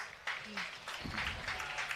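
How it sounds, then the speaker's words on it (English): Crowd at a high school football game between the Glasgow Scotties and Russellville Panthers clapping for an injured Russellville player, a steady spread of applause and murmuring from the stands with a voice talking over it. "Crowd gives him a nice hand."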